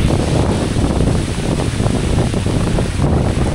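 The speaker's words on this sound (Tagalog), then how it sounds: "Malakas ng ulan. At saka hangin." Heavy rain and strong wind sweep over a flooded rice field, a loud, constant roar of gusts buffeting the microphone with no letup across the short stretch.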